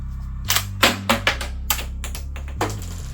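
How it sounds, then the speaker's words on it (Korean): A Beretta 1301 Tactical gel blaster toy shotgun firing a string of shots, heard as about six to eight sharp, close plastic cracks and clacks at an uneven pace, each with a short rattle, over a steady low hum. "이렇게 6발을 모두 발사를 하니까 볼트 스탑이 걸렸네요"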